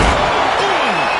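A loud slam as a wrestler's body crashes down hard off the steel steps, heard over a constant roaring crowd in a large wrestling arena.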